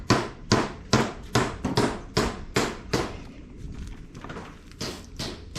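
Heavy hammer blows on a 14-bolt axle locker ring out in a steady series of about a dozen sharp metallic strikes, close and loud, with short pauses between bursts.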